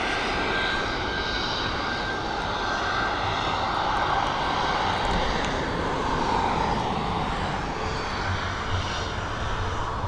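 A Boeing 737 MAX departs Dublin Airport for Paris. The jet's engines give a sustained roar with a faint high whine, holding steady and loud throughout.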